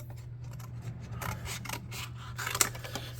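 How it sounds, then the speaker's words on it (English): Scissors or a blade cutting material in half for miniature wooden-style planks, quiet snips and scraping over a steady low hum, with one sharper cut standing out near the end. "So let's cut this in half,"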